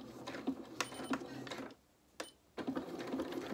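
A domestic sewing machine runs down a T-shirt dress seam in short stitching bursts, with a brief pause in the middle before it starts up again at close range.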